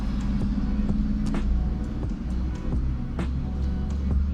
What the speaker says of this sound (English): trying to finish this little segment while trucks are driving